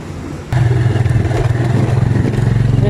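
A motorcycle engine runs steadily close by, a loud low rumble that steps up after a brief quieter start, with some clatter and no talking over it.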